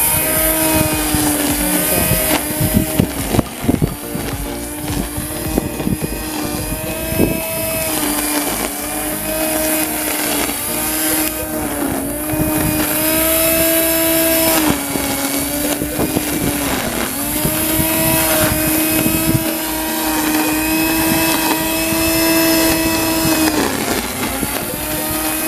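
An Ozito 500W 290mm electric line trimmer cuts overgrown grass, its loud steady whine holding close and continuous with slight pitch dips as the string meets the growth.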